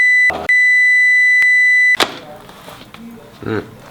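An electric pressure cooker's control panel gives long tonal beeps while being set, followed by a short chirp, with a person talking and some handling noise after.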